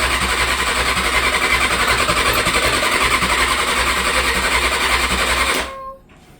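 Motorcycle engine with dirty carburetors running loud and close, a steady rough buzzing drone that holds unbroken for several seconds and then cuts off abruptly, leaving a faint hum.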